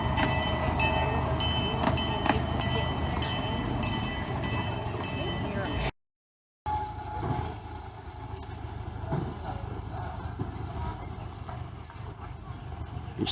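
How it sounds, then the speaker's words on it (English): A small steam-style locomotive at a nature center, now run by a lawnmower engine, chugs with a steady rhythmic clatter in the first half, then after a short break a lower, rougher rumble carries on at moderate distance. "else that's legendary here at Steele's Creek is a steam engine locomotive"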